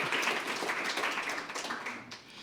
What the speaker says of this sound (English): You can go ahead and clap for all of that if you like.